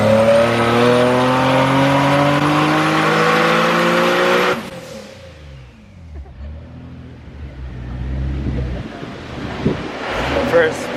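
A turbocharged Nissan 370Z on a dyno roars at high revs, its loud, steady rising engine note held for about four and a half seconds before cutting off abruptly and leaving quieter background noise.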